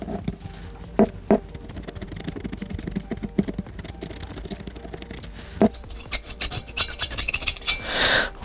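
A cutter blade scraping the cylinder base of a Vittorazi Moster paramotor engine, giving irregular rasping scratches in short bursts and strokes, close and fairly quiet, with small metallic clicks between.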